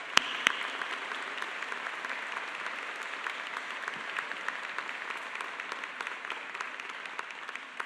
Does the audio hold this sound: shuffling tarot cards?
no